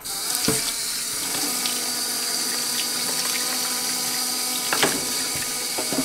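Vacuum cleaner filter, dirty with flour and ketchup, rinsed under a running tap into a sink, a steady rushing stream of water with occasional splashes and clunks as the filter is handled.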